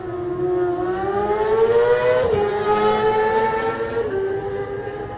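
James Hillier's Kawasaki supersport race motorcycle revs away from the start at the TT, its engine note climbing loudly through successive gear changes before settling into a steady high whine.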